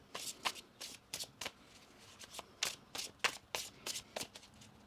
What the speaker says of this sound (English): And one more shuffle here.